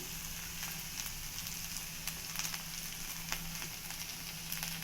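Okra frying in a pan, a dense, even sizzle with small crackles and stirring scrapes heard up close, continuous and without any speech.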